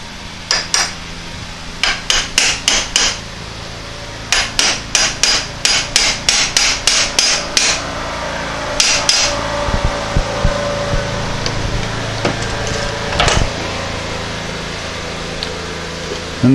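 Sharp metallic hammer taps drive a roll pin into a Porsche 912 pedal assembly, coming in quick rhythmic bursts of several blows each, close and loud, with quieter shop noise between and after.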